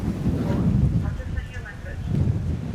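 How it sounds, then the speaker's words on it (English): Strong wind gusting 30 to 40 knots at sea, a loud continuous low roar buffeting the microphone with swelling gusts and faint higher whistling. "it's like blowing 30, 35 knots, up to 40 knot gusts"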